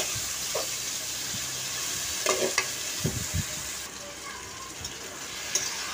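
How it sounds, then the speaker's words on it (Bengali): Boiled water spinach being stirred in a frying pan with green chillies, giving soft scraping clatters and a few louder knocks over a low, steady sizzle. "এই শাকগুলো দিয়ে আমি ভালো করে নাড়াচাড়া করে নিচ্ছি।"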